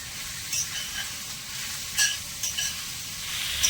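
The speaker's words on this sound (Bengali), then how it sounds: "এবারে এঁচড়টা নেড়ে ছেড়ে ভালো করে ভেজে নেব" Raw jackfruit sizzles continuously in a hot pan while a utensil scrapes and stirs a few times, close and fairly loud.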